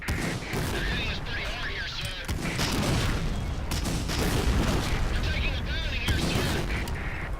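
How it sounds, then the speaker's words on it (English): In the World War II shooter Medal of Honor Allied Assault, called-in airstrikes and artillery boom and rumble amid sustained gunfire. The heavy, loud blasts and crackling shots build and continue throughout, with voices talking over the battle. "Well, I'm calling in airstrikes."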